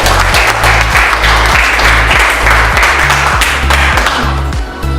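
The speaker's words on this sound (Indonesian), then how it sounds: "Beri tepuk tangan untuk One Up Organizer." An audience at a regional tourism ambassador pageant event claps in a loud, dense burst, with steady low rhythmic thumps of background music running underneath throughout.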